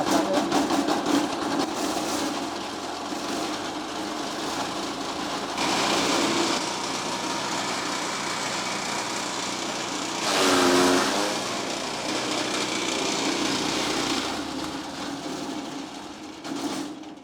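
A shredder machine chews through coconut leaves with a loud, continuous grinding roar that surges briefly several times. No one speaks.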